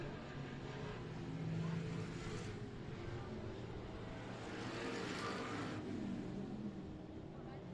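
Dwarf race cars lap the Cotton Bowl Speedway oval in Bandera, Texas during a street stock heat race, engines droning and swelling as they pass at moderate distance, with a track announcer talking over the noise.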